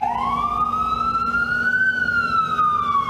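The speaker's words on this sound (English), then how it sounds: "The only sound of New York hustle and bustle is the wail of the ambulances." A loud ambulance siren in New York wails continuously, one long rising and falling tone close by with traffic rumble underneath.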